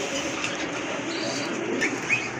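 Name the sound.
pigeons cooing at a pigeon market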